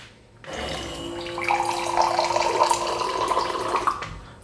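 Water from a bottle poured into a small glass, a steady splashing trickle starting abruptly and rising slightly in pitch as the glass fills, then cutting off.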